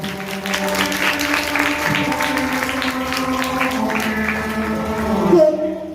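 Audience applause at a staged Jain drama about Queen Chelna and King Shrenik, a dense, steady wash of clapping that holds for several seconds, with voices mixed in beneath it.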